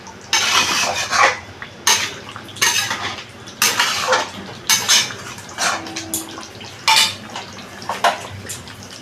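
Chicken patiala being stirred in a cooking pan: a utensil scrapes and clinks against the metal in repeated bursts, roughly one every second, close and distinct with quiet pauses between strokes.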